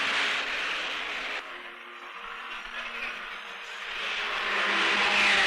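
Several 1950 Formula 1 race cars at the start of a race in the south of France, including Ferraris and a Maserati, make a broad, loud engine roar that swells at the beginning and end with no talk over it.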